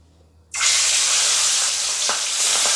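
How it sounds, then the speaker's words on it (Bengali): Boal fish dropped into hot oil in a wok gives a sudden loud sizzle that holds steady and bright, with small pops and crackles near the end. "এখন আমি গ্যাসটাকে মিডিয়ামে রাখলাম, একে একে মাছগুলো আমি ভেজে নেব।"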